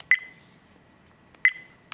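A Viofo A119 Mini 2 dash cam gives two short, clear electronic beeps about 1.3 seconds apart, each a steady tone with a brief decay, against near silence.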